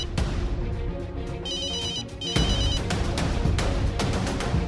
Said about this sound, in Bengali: তখনই আমার ফোনটা বাজলো